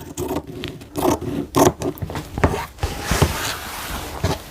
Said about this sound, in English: what I'm going to do is take my pinking shears